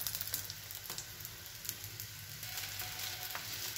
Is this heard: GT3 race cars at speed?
no